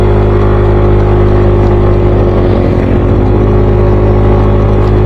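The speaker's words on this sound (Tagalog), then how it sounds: "Gapang yung motor ko." Motorcycle engine labouring at low speed up a steep mountain road to Mt. Kilang, a loud, steady drone with a slight surge midway and no speech.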